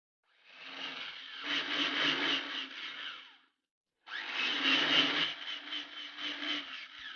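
An electric hand mixer whirs through eggs and vanilla paste for pukis batter in two bursts of about three seconds each, with a short pause between them, close and steady.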